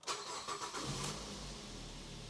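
A Ford Focus engine cranks and catches in a quick burst, then settles into a steady low rumble at idle, close by.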